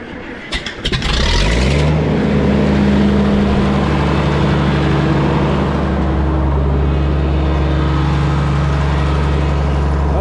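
A Minneapolis Moline G1050 LP tractor starts up with a clatter, then settles into a loud, steady engine drone as it powers a log splitter working green wood.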